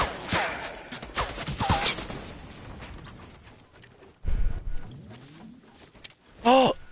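Bursts of video game gunfire, scattered rapid shots and a few louder cracks, heard under people talking and some faint electronic tones.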